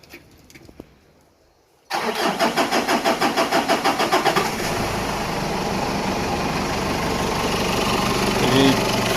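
Ford Ranger Wildtrak 3.0 diesel with a fuel problem cranks briefly and fires, then settles into a steady, loud close idle; a faint voice is heard before the start.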